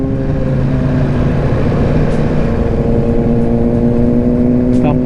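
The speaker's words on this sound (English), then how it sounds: "Oh, this bike is loud as f." A loud motorcycle engine drones steadily nearby at a car and motorcycle meet, a continuous heavy rumble with no clear revs, and a voice speaks over it.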